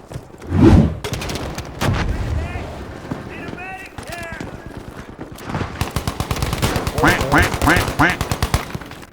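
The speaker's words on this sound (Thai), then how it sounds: "คนยิงโดนป้าสมคำบังเลยจริง" Gunfire in the Battlefield V video game: loud bursts early, then rapid automatic firing with repeated sharp shots later, mixed with game effects and players talking over it.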